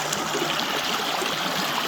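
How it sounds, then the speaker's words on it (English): Creek water in a West Virginia stream flows and trickles steadily, a close, continuous broadband rush with no pauses and no voices. "Ain't nothing like the sound of this creek."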